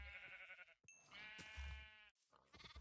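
A baby sheep in Minecraft bleats in short, wavering cries, three bursts separated by brief gaps, close and clear with no talking over it.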